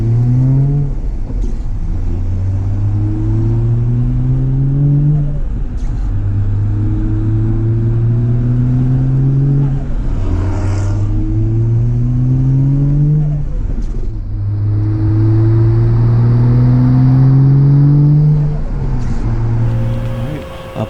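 Toyota JZX90 with a 1JZ engine revving hard through its exhaust, a series of rising rev pulls repeating steadily across the stretch, loud and close with no talk.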